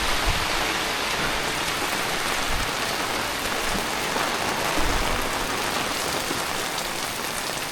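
Heavy rain pours steadily onto the stone steps of Pavagadh Mahakali Temple, a dense, continuous hiss of water that stays loud and even throughout with no voices.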